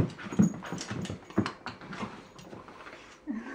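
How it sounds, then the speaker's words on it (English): A dog excited over a pig's ear makes soft whimpers, snuffles and short yips in bursts, close and fairly quiet, with little else around. "Apparently the dog really loves pig's ears."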